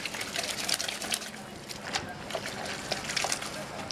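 A shirt is hand-washed with soap and water in quiet sloshing, squishing and splashing, made up of small close splashes and trickles that run steadily under a man's speech.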